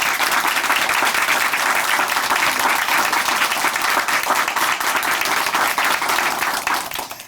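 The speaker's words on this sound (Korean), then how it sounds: "다시 한번 큰 박수 보내드릴게요." Loud, sustained audience applause fills a Korean church-broadcast studio, dense clapping that stays steady throughout before tapering slightly at the end.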